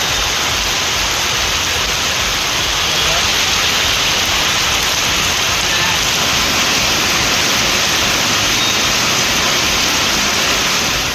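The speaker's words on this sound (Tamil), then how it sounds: "விருதுநகர் மற்றும் சுற்றுவட்டார பகுதிகளிலும் காற்றுடன் கூடிய கனமழை பெய்தது" Heavy rain driven by wind pours down in Virudhunagar, Tamil Nadu, a loud, dense, unbroken hiss of water that stays steady from start to finish.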